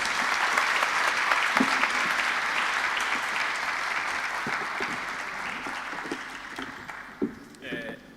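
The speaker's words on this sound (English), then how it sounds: "please give them a good South African round of applause" A conference audience applauds steadily and fairly loudly for about eight seconds, with the clapping thinning toward the end and a few brief sounds from the hall.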